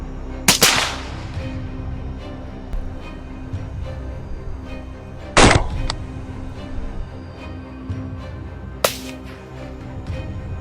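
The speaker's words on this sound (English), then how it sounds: "Continuously firing, we took down 5 more wild boars" Three sharp gunshots from hunters firing at wild boars in a forest area, spaced several seconds apart and loud against a steady outdoor background.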